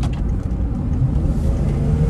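An old L322 Range Rover accelerates hard, its deep engine note droning loud and close with a low, steady rumble that holds through the pull, no voices.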